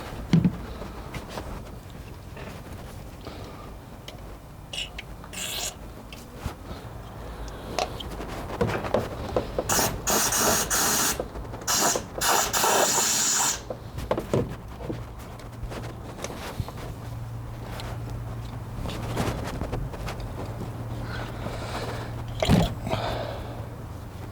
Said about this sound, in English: I'm going to blow a bit of compressed air in there now